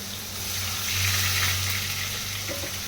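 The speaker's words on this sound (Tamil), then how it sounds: "வெங்காயம் ஆனியன் போட்டாச்சு." Onions fry in a pan in a small home kitchen, a continuous close sizzle with a low hum underneath and a faint clink near the end.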